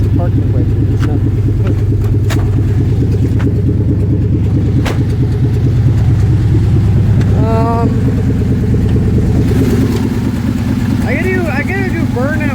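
A car engine running steadily after a cold start, a loud, close, continuous rumbling drone with a few sharp clicks and brief squeaks over it.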